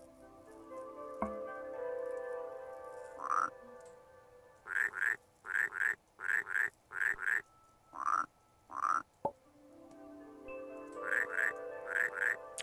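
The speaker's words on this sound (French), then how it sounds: "Une flûte des grenouilles." A frog flute in the puzzle game Rusty Lake Paradise croaks in rhythmic bursts, first a few scattered calls, then a quick run of close, evenly spaced croaks, then another cluster near the end over a low droning backdrop.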